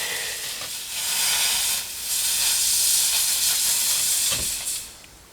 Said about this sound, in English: Get it cooled down before it melts too much.